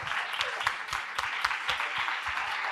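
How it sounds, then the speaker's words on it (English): Audience applause after a Q&A session on evolutionary thinking: a fairly faint, continuous patter of many hands clapping with a few sharper individual claps, alone without talk. "It's a really wonderful session, and we should have give big clap for the Sutirth"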